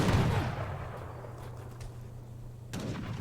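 Heavy cannons fire in an Age of Empires III match, one booming shot at the start and another near the end over a low rumble of battle.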